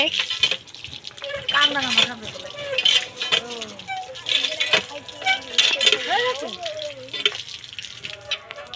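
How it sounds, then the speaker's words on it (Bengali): Banana leaves rinsed under a running tap, with splashing water and rustling that come and go beneath several people talking close by. "কলা পাতা ধুচ্ছে, ভালো করে ধুবি কিন্তু, যাতে নোংরা না থাকে।"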